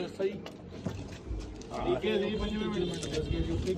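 Soft pigeon coos repeat in the background while people talk nearby, with some mechanical creaking mixed in, at a pigeon-flying competition.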